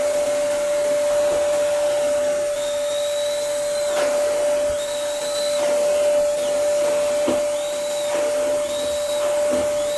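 A Premier cordless vacuum cleaner runs steadily while vacuuming a sofa, a constant motor whine with a fixed tone, its pitch swelling briefly several times as the nozzle is pushed back and forth.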